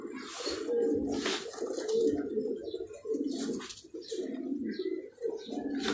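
Pigeons cooing nearby in repeated soft, throaty bursts, with steady low murmuring throughout and no talking.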